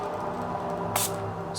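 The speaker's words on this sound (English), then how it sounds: "This is citrus spray. It's citrus sage." Citrus sage spray misted into the air of a room, a single short hiss of about a tenth of a second standing out over steady low background hum.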